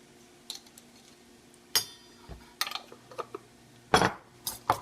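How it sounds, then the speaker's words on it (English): A fork clinks against a dish while stirring raspberry preserves with mayonnaise, giving scattered, quiet metallic taps and scrapes with a few sharper clinks, heard alone. "And we're just going to stir."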